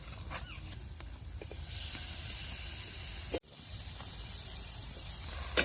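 A steady hiss of ginger and garlic paste sizzling in hot oil, fairly faint, runs throughout and cuts out briefly for a moment before resuming.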